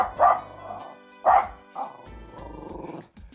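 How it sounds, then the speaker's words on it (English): A dog barks loudly at close range: two sharp, separate woofs, then a longer, rougher bark trailing into a whimpering growl, with a brief yip at the end and no talking. "He's barking at that"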